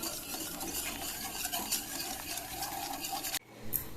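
Milk with sugar and cornflour is stirred steadily in a pot, a close, continuous scraping swish that stops abruptly near the end, leaving a quieter room.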